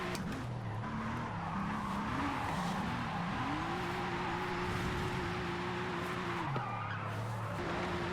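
Tires skidding as a car drifts in Forza Horizon, a sustained squeal that bends and wavers in pitch over a steady engine drone, loud and continuous throughout.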